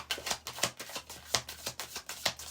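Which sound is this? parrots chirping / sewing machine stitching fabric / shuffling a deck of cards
shuffling a deck of cards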